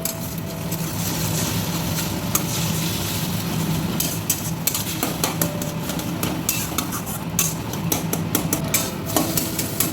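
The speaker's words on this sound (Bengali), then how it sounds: "সর্ষের তেল দিয়েই ভাজছি।" An egg frying in mustard oil in a wok: a dense, loud, continuous sizzle close up, broken by frequent quick scraping and tapping strokes of a spatula.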